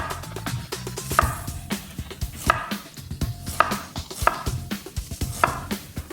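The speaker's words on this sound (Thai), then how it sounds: "ผมจะหั่นให้เป็นชิ้นใหญ่แล้วให้ติดให้ติดขั้ว" Steady, repeated knife strokes chopping onion into large chunks on a cutting board, close and fairly loud, with a quick irregular rhythm and no voices.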